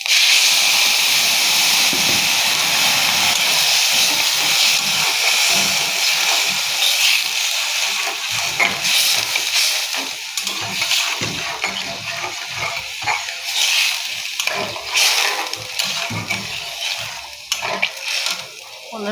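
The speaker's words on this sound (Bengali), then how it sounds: "তো বন্ধুরা এখন আমি জল দিয়ে দেবো।" Papaya curry sizzling loudly in a hot pan as water is added, with a strong hiss that gradually settles into bubbling and crackling, punctuated by stirring and clinks of a utensil against the pot.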